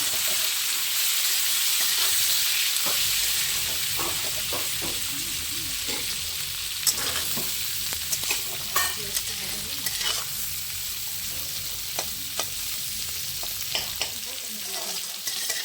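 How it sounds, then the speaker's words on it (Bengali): Onions and slit green chillies fry in a pan and are stirred, with a steady close sizzle broken by repeated scraping and clinking strokes of the spoon. "এবার আমি এর মধ্যে পেঁয়াজটা অ্যাড করে দেবো, কতগুলো কাঁচা লঙ্কা চিড়ে দিয়ে দিলাম। এবার একটু নেড়ে নেব।"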